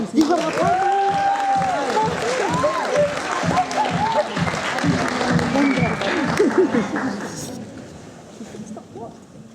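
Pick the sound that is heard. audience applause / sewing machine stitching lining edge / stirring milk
audience applause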